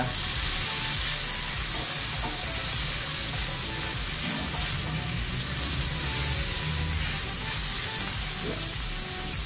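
Mushrooms fry in canola oil in a pan, making a loud, steady, close sizzle that holds evenly throughout with faint stirring scrapes underneath.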